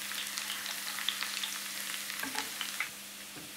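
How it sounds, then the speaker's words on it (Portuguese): Garlic frying quickly in hot oil: a continuous close sizzle and crackle with a few small pops and stirring scrapes, steady and moderately loud, with no talk. "o óleo já está quente, vou fritar o alho rapidamente"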